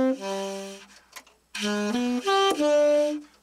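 A triad melody from a song with a natural 9 embellishment note, played as a short run of clear sustained pitched notes in two phrases separated by a brief pause.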